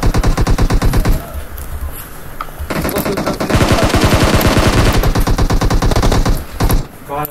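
Rapid automatic gunfire from a zombie mode video game rattles in loud, sustained bursts with brief gaps, shots stacked in fast regular rhythm.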